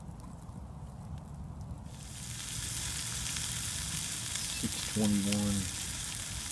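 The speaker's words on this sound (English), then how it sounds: "I might fry some of the sausage and see if I can get, excuse me, if I can get grease that way" Sausage frying in a pan over a campfire on a below-freezing night at a debris shelter. A steady, moderate sizzle sets in partway through and continues, with a brief voice heard over it toward the end.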